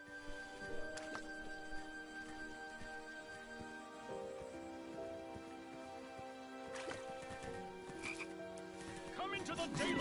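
Frogs croak steadily in the King's Quest video game, a dense, continuous chorus layered over ambient game sounds with a brief surge near the end.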